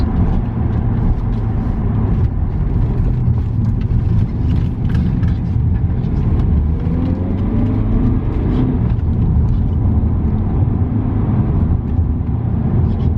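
A BMW E60 diesel saloon rumbles steadily from inside the cabin, its engine drone and road roar loud and constant as it pulls under load, with a faint whine rising midway.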